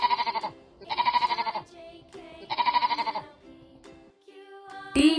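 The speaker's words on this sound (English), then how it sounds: "S for sheep." Sheep bleating several times in a steady, wavering rhythm, fairly close and clear, with short quiet pauses between calls and a brief bright sound at the very end.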